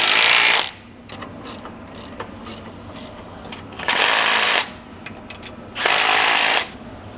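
Power ratchet on a LandCruiser 200 Panhard corrector nipping up bolts: three loud whirring bursts near 0.5, 4 and 6 seconds, with quieter clicking and mechanical handling between them.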